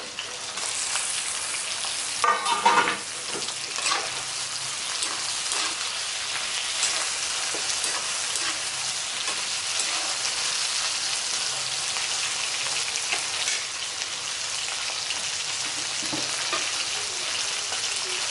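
Onions and tomatoes fry for a Chettinad quail curry, a continuous rain-like hiss of sizzling oil with a brief clattering stir near the start, close and steady, no speech.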